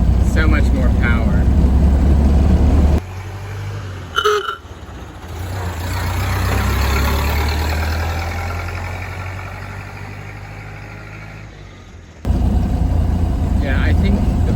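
A Ford Model A engine with a newly fitted carburetor runs steadily with a low, rumbling idle and a smooth swell in throttle midway, framed by louder close wind-buffeted noise at the start and end.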